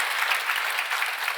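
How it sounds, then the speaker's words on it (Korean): A congregation at a Korean church healing service bursts into sustained applause, a thick, even roar of many hands clapping that holds steady from start to finish. "우리 하나님께 감사의 영광의 박수 올려드리기를 원합니다"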